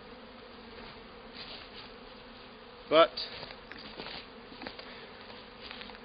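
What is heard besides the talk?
honey bees buzzing at the hive entrance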